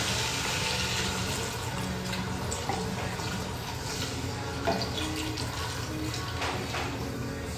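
Cabernet wine, beef broth and Worcestershire sauce poured into a pot for venison stew, a steady close splashing and trickling stream of liquid with no talk over it.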